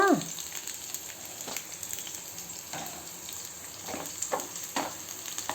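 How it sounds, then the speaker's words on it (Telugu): Green chillies fry in a pan for a Telugu ivy gourd chutney, a steady soft sizzle with a few brief clatters and stirring scrapes, close and alone with no talk. "కొంచెం పచ్చిమిర్చి వేగిన తర్వాత"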